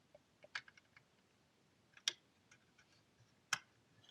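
Sparse, faint clicks of keys tapped on a computer keyboard plugged into a laptop stand hub, a few isolated presses spread out in a quiet room.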